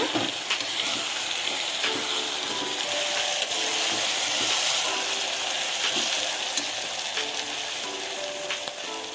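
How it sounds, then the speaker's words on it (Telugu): Spices for moong dal khichdi sizzle and crackle steadily in a hot pan, a dense continuous frying hiss up close with faint scrapes of stirring and no talking. "కొంచెం ఇవన్నీ కూడా వేగాలన్నమాట. కొంచెం ఇలాగా వేగాక"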